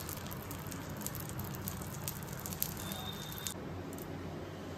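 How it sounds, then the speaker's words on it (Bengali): An egg frying in a pan for a packed lunch, a soft steady sizzle with faint crackles, quiet and even throughout, no one speaking. "এখানে একটা ডিম ভাজতে দিয়ে দিয়েছি"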